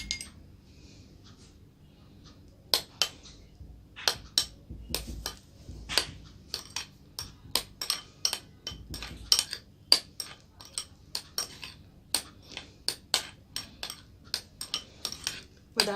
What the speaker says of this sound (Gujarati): અને પછી સાથે આ ક્રશ બી નાખી દેશું ને હલાવી લેશું